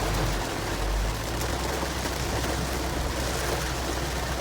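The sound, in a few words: heavy rain at a campground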